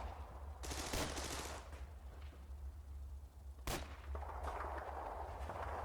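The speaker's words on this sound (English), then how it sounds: "Heavy machine gun, that's not good." Heavy machine gun fire in the World War II strategy game Combat Mission: Battle for Normandy, heard as faint, distant bursts and sharp cracks over a low rumbling battlefield background.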